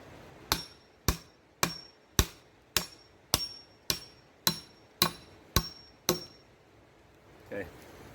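Eleven sharp, evenly spaced metallic blows from the back of an axe used as a hammer ring out one after another, each decaying quickly, followed by a softer thud.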